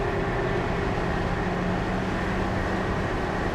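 A 1957 Chevrolet Cameo pickup truck on the move, heard as a steady, even rumble of engine and road noise from inside the cab, continuous with no talking.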